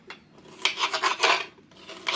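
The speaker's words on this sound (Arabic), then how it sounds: "هلا بدي اقطع الفليفله الخضراء" A knife slicing through a green bell pepper on a cutting board, heard as a run of crisp, close scraping cuts in uneven bursts with short pauses between them.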